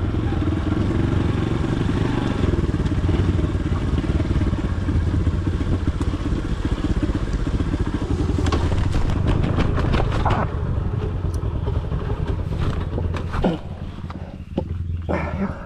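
Motorcycle engine labours loudly along a rough, difficult dirt trail, a steady droning rumble joined in the second half by sharp rattling and clattering knocks.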